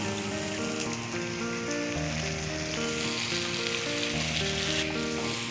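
Brinjals hit hot oil in a pan for a spicy masala gravy and sizzle loudly and steadily throughout. A sustained background tone sits under the crackling frying noise, and no one speaks.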